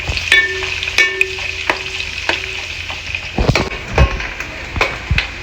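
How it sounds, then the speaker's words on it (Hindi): Almonds fry in a pan for halwa, giving a soft, steady sizzle broken by sharp clicks and scrapes of stirring, close and without talk. "तो ये देखिए पहले मैं बादाम थोड़ा फ्राई करके निकाल देती हूँ"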